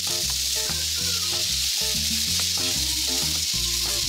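Loud, steady sizzling of chicken frying in a hot pan, continuous throughout, with a tuneful melody playing underneath.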